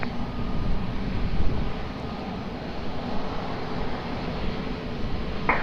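An airliner on the runway at Lisbon Airport during takeoff roll, a steady broad roar of jet engines holding at a constant loud level throughout, with no talk over it.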